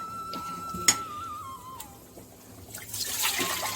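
Blended spinach greens poured into a pot of spinach gravy already seasoned with tamarind and salt; a faint, soft wet trickle that swells briefly near the end, with no talking.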